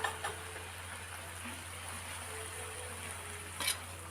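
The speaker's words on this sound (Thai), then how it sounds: "ผัดให้ส่วนผสมทุกอย่างเข้ากันดีอีกรอบค่ะ" Wild sweet leaf vegetables, egg and canned fish stir-fried in a pan with steady, moderate sizzling and crackle, a couple of brief louder spatula scrapes and stirs, no talk.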